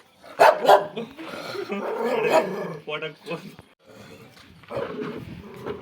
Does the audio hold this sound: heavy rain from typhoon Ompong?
no